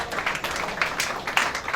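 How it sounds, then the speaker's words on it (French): Mourners at a funeral ceremony clap together, giving a short burst of dense, uneven applause with a few sharper swells, heard from a moderate distance. "Accompagner ces mots de circonstance par des acclamations."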